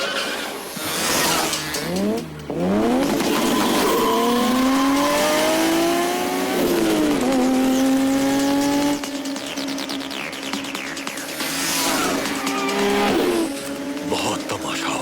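A car in an action movie swings around with loud, drawn-out tire screeches and engine roar, the squeals rising and falling over several seconds amid shouting voices.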